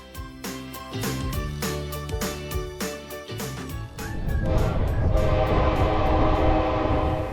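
The Coastal Classic passenger train in Seward sounds its horn in repeated sharp blasts, then rumbles loudly and continuously as it moves along the track close by.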